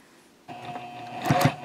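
A sewing machine stitches the back seam of a fabric project pouch at a stitch length of 3.0, starting with a steady hum that grows louder toward the end, close by, with no talking.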